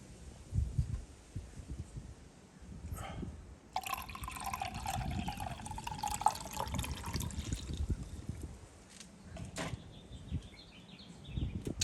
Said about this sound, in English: let me try to put a little bit more clear water